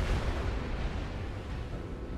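Naval gunfire in World of Warships from the battleship Wyoming facing a Myogi: a dense, continuous low rumble of booming explosions and artillery, loud and steady with no clear gaps.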